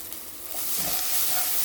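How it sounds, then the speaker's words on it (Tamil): Tomato paste sizzling and frying in a thick curry gravy in a pan for curry dosai, a steady close hiss that swells after the first half second and carries on without speech. "இப்போ நான் டொமேட்டோ பேஸ்ட் கொஞ்சம் போடுறேன்"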